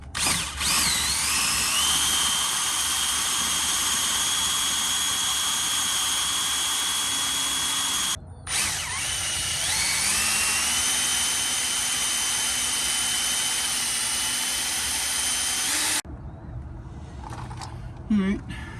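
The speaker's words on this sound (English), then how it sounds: "Maybe we're just gonna drill it because this thing is freaking halfway through there already." A power drill whines loudly while boring out a soft rivet on an upper ball joint of a 1997 Chevy, a high steady drone that briefly cuts out, spins back up under load, then stops.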